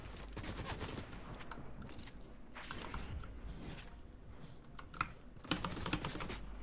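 Rapid video-game gunfire crackles in bursts over steady computer keyboard clatter and clicking, with a few sharper shots standing out near the end.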